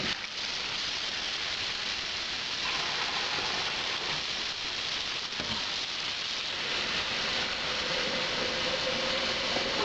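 Boiling water is poured from a kitchen jug into a beer brewing vessel for a Coopers IPA brew, a steady close rushing splash that runs continuously throughout with no talk.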